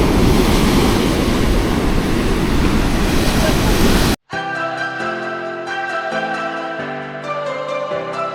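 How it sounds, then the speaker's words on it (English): Big ocean waves breaking at a beach as the water grows choppier, a loud continuous roar with wind buffeting the microphone, abruptly cut off partway through and followed by music. "there's some big old waves right here. These waves are huge."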